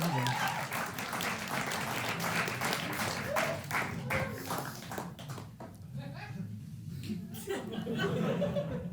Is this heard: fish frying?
no